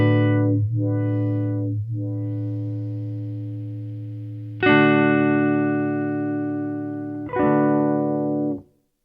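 Distorted electric guitar played through a Meris Mercury X pedal set to its slowest speed: three or four sustained, buzzy chords, each swelling and dipping in a slow modulated sweep before the last one cuts off cleanly.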